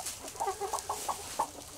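Asil hens give a quick series of soft, close clucks, about six short calls in under two seconds, with no talking.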